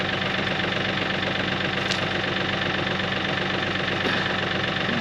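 A tractor engine idles nearby in a steady, low, rumbling drone with a faint rhythmic knock, continuous and even throughout, with no talk over it.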